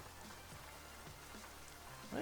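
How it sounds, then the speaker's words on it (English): Steady rain falls in Euro Truck Simulator 2, a soft continuous patter with faint low rumbles underneath and a brief louder knock at the very end. "It's still raining, though."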